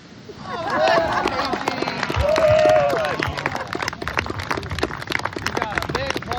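Applause at a retirement party: a crowd claps in a dense patter that swells twice with whoops and cheers, then thins into scattered claps as people chatter and laugh nearby.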